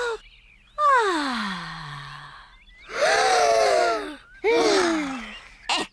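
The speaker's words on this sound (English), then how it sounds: "Breathe in the wonderful fresh air" Cartoon children take several long, exaggerated breaths in and out at a campsite in a Peppa Pig episode, in three or four loud bursts with falling, sighing pitch and short quiet gaps between them.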